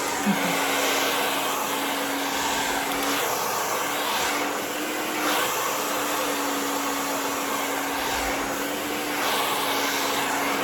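A hair dryer blows steadily on coarse curly hair, a loud continuous airy roar with a constant motor hum that barely changes through the whole stretch, heard close with no talk over it.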